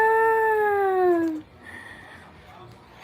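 A cat gives one long, clear, close meow that slides gradually downward in pitch and breaks off abruptly, leaving quiet room noise afterward.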